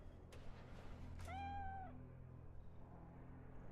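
A cat in the video game Cyberpunk 2077 gives a single drawn-out, rising-and-falling meow, close and fairly quiet, with a couple of short clicks before it and low game ambience afterward.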